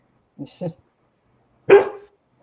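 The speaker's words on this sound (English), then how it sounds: "My dog wants to go out." A pet dog gives two short barks close by, a pause, then a louder, longer bark, with nothing else in between.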